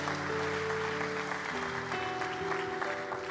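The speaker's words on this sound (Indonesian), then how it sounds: "Yang percaya kasih tepuk tangan dong buat Tuhan." A church congregation clapping steadily during a sermon, sustained applause under sustained organ or keyboard chords.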